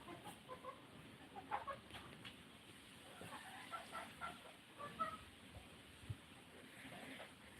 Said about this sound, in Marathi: लय कुरकुर करते ती तुमची वाट बघायला लागली चिंटू दादा ती कोंबडी